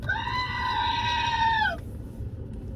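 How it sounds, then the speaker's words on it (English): A screaming goat novelty sound button lets out one long, loud, drawn-out bleating scream that holds steady for over a second before dropping off, followed by quiet room noise. "Screaming goat button."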